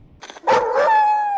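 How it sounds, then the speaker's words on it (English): Several dogs bark and howl loudly in a horror film from 1976, sharp barks giving way to a sustained howl. "More dogs."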